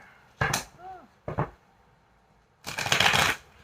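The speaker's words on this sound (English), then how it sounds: "This is a newer deck, so it doesn't shuffle quite well just yet." A new, stiff deck of tarot cards is shuffled up close, in three short riffling bursts with the last one longest and loudest, separated by quiet pauses.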